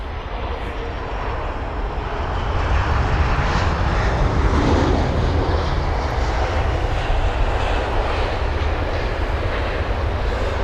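British Airways Airbus A319 inbound to land at London Heathrow at sunset, a loud, steady jet engine roar that swells after the first couple of seconds and holds broad and continuous overhead with no talk.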